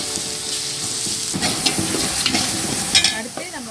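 Ginger garlic paste sautéing with golden onions in a pan for a 2 kg chicken biryani, with a steady sizzle and repeated scraping stirs of a spoon against the pan, close and alone without talk.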